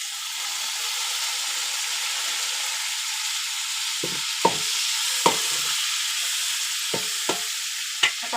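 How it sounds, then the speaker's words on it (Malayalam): Tomato fries with onions in a hot pan, a steady close sizzle broken by several sharp clacks of stirring toward the end. "ഇപ്പം ഞാനൊരു തക്കാളി ഇടാണ്."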